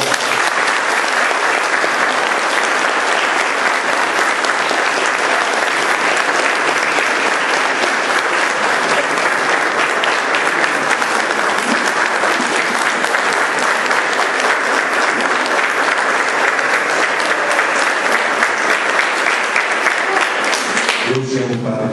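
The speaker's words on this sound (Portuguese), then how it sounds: "Uma salva de palmas." A church congregation at a Pentecost Mass in the Jesus Ressuscitado parish gives a long, loud, sustained round of applause that keeps an even intensity before cutting off near the end.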